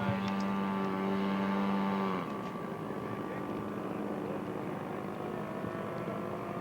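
A propeller aircraft taxiing at an airshow gives a steady droning engine hum, close and moderately loud, whose tone drops slightly about two seconds in and then holds level.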